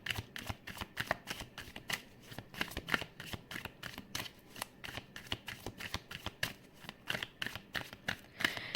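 Tarot cards are shuffled close up in a steady series of crisp riffling flicks that repeat all the way through, with no talking over them.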